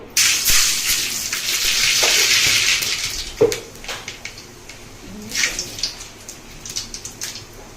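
Tempering seeds dropped into hot oil in a pan for drumstick sambar, giving a loud crackling sizzle that fades into lighter sputtering and pops.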